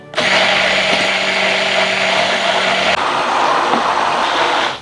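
An electric blender runs steadily at full power, mixing harissa sauce, salt, whisky and vegetable oil for a whisky burger. The whine stays loud and continuous, shifts pitch once partway, then cuts off.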